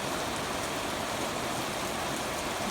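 Broadband, even wash of rain from an afternoon thunderstorm pours steadily without pause, moderately loud and close, with no voices over it.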